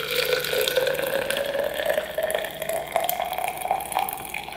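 Hot water, stopped just short of a full boil, pours steadily into a tea tumbler, a continuous close splashing stream whose tone rises gradually as the vessel fills.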